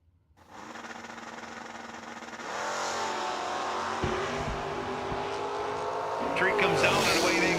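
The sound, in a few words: drag racing cars launching off the starting line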